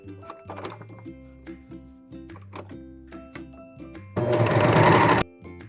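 A sewing machine stitches the side seam of a shift dress in short bursts of running, then one louder, steadier run near the end.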